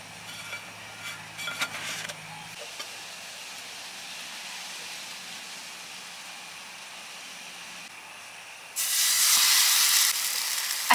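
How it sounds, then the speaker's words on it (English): Food sizzling in a pan in a van kitchen, a soft crackling hiss that swells into a loud bright sizzle near the end, heard close with no talk. "I feel like a chef whenever I hear that noise, like the little sizzle."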